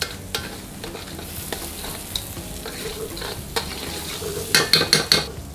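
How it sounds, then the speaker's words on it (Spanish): Rice being stirred in a pan for a spider crab and prawn stew gives a steady frying sizzle, with spoon scrapes throughout and a rapid burst of scraping clinks near the end. "Le daremos unas vueltecitas al arroz."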